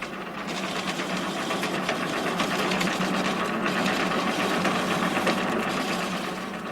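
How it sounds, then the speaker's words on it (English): Chisels shape a wooden spindle on a lathe for carriage building, a loud, steady rattling whir of the turning work with rapid fine cutting chatter that runs continuously. "A variety of chisels is used to mould the different patterns."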